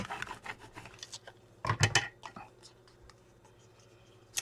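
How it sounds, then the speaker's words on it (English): Burnishing tool rubbed firmly over a paper Victorian craft embellishment, giving soft rasping scrapes in short strokes, with a louder cluster of rubbing midway, close and quiet. "I usually just take something and burnish everything down real well"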